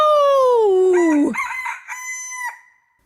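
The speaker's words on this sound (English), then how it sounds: "The cockerel, too, which had been awakened by the noise, and had become lively, cried down from the beam, "Cock-a-doodle-doo!"" A cockerel perched on a beam lets out one loud, close cock-a-doodle-doo crow that falls in pitch and then breaks into shorter trailing notes before fading to silence.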